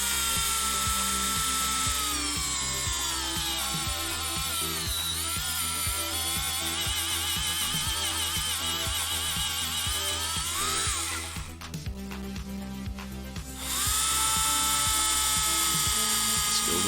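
A light, low-torque handheld drill spins at high RPM, a close, steady whine with a buzzing, ratcheting undertone, briefly easing off near the end before spinning back up.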